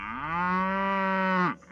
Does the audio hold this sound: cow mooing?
yes